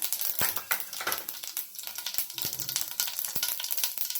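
Cumin seeds sizzle and crackle in hot oil in a pan while a dry potato and drumstick vegetable dish is started, a steady close frying hiss with sharp pops and stirring scrapes, no voices.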